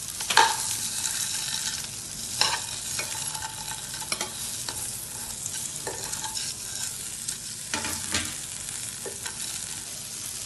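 Boiled eggs fry in hot oil in a pan for egg dum biryani, with a soft continuous sizzle broken by intermittent stirring scrapes and clinks, and no talking.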